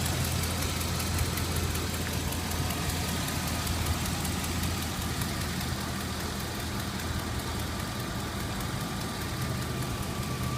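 A 2007 GMC Sierra 4x4 pickup with a 6.0L V8 idles steadily and evenly, a continuous close engine rumble with no talk over it.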